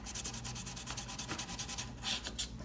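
Rapid back-and-forth rasping of a file working the sides of the frets on a Blueridge guitar, a steady close scraping rhythm of about five strokes per second, alone without voices.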